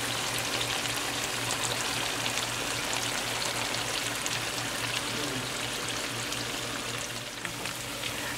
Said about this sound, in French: je vais rajouter de l'eau. Je mets de l'eau, pas beaucoup d'eau.